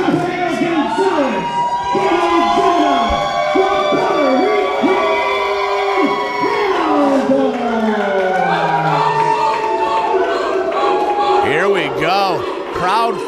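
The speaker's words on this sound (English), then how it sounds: "I think many of them are cheering for both teams" Crowd at a wrestling event in Puerto Rico cheering and shouting steadily throughout, a dense roar of voices with whoops and rising cries near the end.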